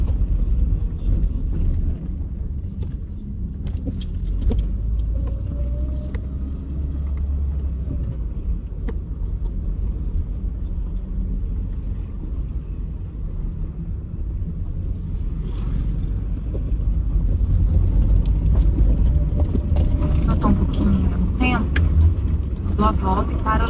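A car drives slowly through a parking area, circling in search of a free space; a steady low engine and road rumble continues throughout, with someone talking over it.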